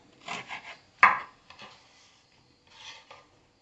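Small lemons are cut with a knife on a wooden cutting board, a few soft irregular knocks and rubbing scrapes, one sharper chop near the start, otherwise quiet.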